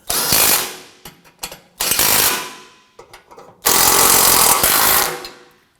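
A ratchet snugs down radiator bracket bolts on a 2003-2014 Volvo XC90 3.2L inline-six, with several close, loud bursts of rapid clicking separated by short pauses and no talking.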